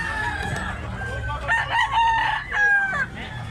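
A young stag rooster, a medium-sized gamecock with a yellow leg band, crows close by in a strained, rising call with a repeated crow near the end, over a low background murmur.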